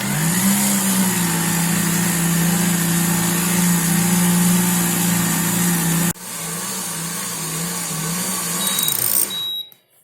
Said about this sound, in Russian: видно было, как тестомес замешивает на самой маленькой скорости